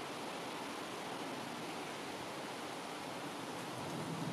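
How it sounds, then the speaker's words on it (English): Floodwater from a swollen river rushes along and spills across a path, a steady, close, full-bodied roar of churning water that holds evenly throughout with no voices. "And it is quite a lot of water and is going quite far down."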